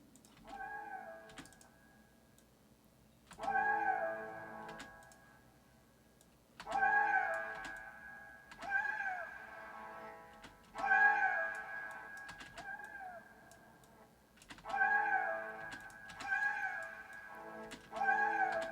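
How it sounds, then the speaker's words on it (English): A cat meow sample run through a pitched resonator sounds as a series of tonal, ringing meows that repeat about every two seconds over a synth chord in a music production session, with no talking. "this is gonna pass the meow through a resonator, so I can"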